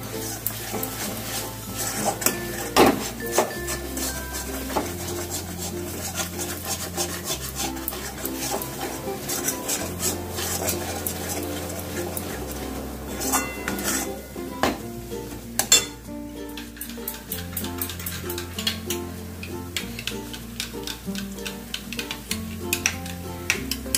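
A spice paste is stirred and fried in a pan for a prawn kaliya, with a spatula repeatedly scraping and clinking against metal over a light sizzle, all beneath steady background music.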